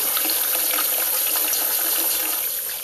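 Water rushes steadily through a talkbox tube being rinsed out with soapy water, a continuous close hiss and gurgle that holds even throughout and eases slightly at the end.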